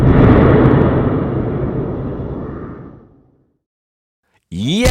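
An explosive shock-tube air blast travelling over 1,000 miles per hour strikes a test building roofed with asphalt Timberline shingles, giving a loud broad rush that fades to silence before a voice breaks in.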